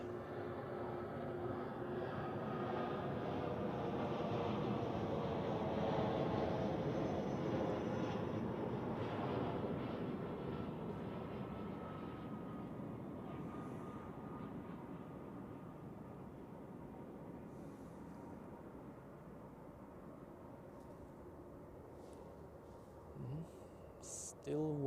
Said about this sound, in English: here we have an Edelweiss A320 as announced from Scotland